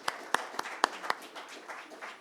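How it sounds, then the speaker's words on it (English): Several sharp claps ring out at the Promising Indian Conclave and Awards 2018, then loosen into a thin, scattered patter of applause from a small group. "Can we have a huge applause for Prerna Singh?"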